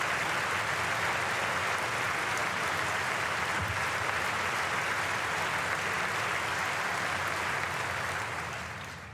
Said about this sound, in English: Low-hanging fruit of an applause line for sure.